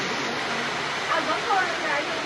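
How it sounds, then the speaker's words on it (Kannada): Heavy rain pours down in Udupi while people wait for a bus after a rickshaw ride, making a dense, steady hiss throughout with slight swells partway through. "ಮಳೆ ಜೋರು."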